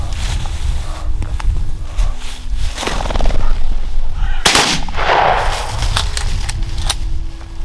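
Loud shotgun blast during a pheasant hunt at a game bird preserve, a single sharp report standing out over outdoor wind noise and rustling, with no one speaking.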